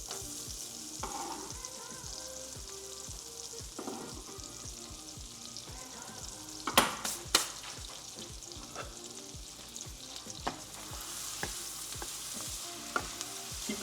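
Chopped garlic sizzles in melting butter in a pan on low heat, a steady, quiet frying crackle with occasional louder pops and faint stirring.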